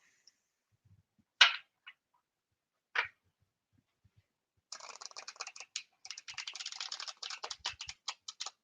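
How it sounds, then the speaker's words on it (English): A few sharp card snaps, then a quiet pause, then a rapid stretch of fluttering clicks as a deck is riffle shuffled close by, with no talking. "Such a nice deck to riffle shuffle."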